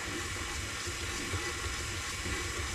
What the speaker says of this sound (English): let's add just a little bit of water